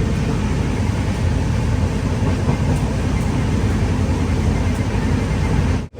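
A Jan Shatabdi Express train pulls into Birur Junction railway station with a loud, continuous rumbling roar of wheels and carriages, steady throughout before cutting off abruptly.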